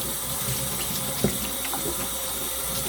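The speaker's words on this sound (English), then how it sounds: "I'm going to rinse it all off." Water runs steadily from a tap over a craft mat being rinsed in a sink, a continuous splashing hiss with a brief clatter midway.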